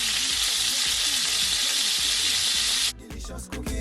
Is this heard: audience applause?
no